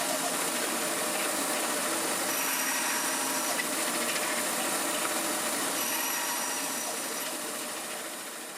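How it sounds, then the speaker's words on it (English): A bandsaw runs steadily while cutting corner notches in a wooden shelf pin router jig, giving a continuous whirring rasp that holds level for the whole stretch and eases off at the end, with no voices. "with the bandsaw, just cut out those corner notches"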